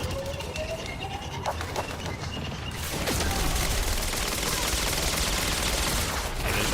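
Gunfire in the video game Quantum Break: scattered shots over game ambience, then a dense, loud stretch of sustained fire that fills the second half, with no voice over it.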